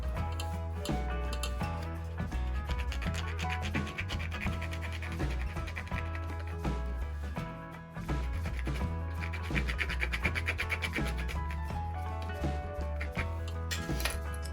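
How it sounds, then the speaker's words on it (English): Sandpaper scrubs the smooth leather of an IWB holster for a Smith & Wesson M&P to rough it up for glue, a steady scratchy rubbing, close and continuous, over background music. "we're gonna rough up the portion here because this is smooth leather, so we gotta rough it up to get the glue to stick"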